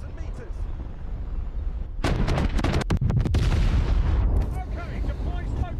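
Naval artillery fire in War Thunder Mobile during a battleship engagement: a rumbling backdrop breaks into a loud cluster of heavy booming salvos with sharp cracks, then settles back to a low roar, with talk over it.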